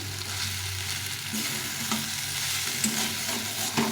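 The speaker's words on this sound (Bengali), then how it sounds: "এভাবে সুন্দরভাবে কষিয়ে নিতে হবে মশলাটা হয়ে গেছে তেলটা ছেড়ে দিয়েছে মশলা থেকে" Spiced onion masala sautéed in oil for a jackfruit curry, a steady close sizzle and frying crackle with occasional stirring scrapes, no voices.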